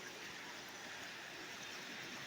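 A rushing mountain river on the road from Babusar Top toward Skardu crashes with force, a steady loud roar of water filling the whole moment without pause or voices.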